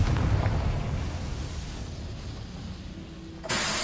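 A Confringo blasting spell explodes in Hogwarts Legacy with a loud, deep rumbling blast that slowly fades, then a sharp fresh burst of noise cuts in near the end.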